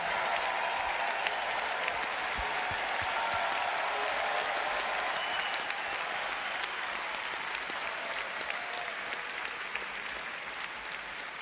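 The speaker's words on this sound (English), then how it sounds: "please, another round of applause for all our award winners here at the Grand Sumo Tournament." Large arena crowd at a Grand Sumo Tournament applauds the award winners, a dense, steady roar of clapping that holds at full strength for about eleven seconds with no pause.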